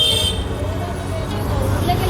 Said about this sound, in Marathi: फुल ट्रॅफिक असते यावेळेला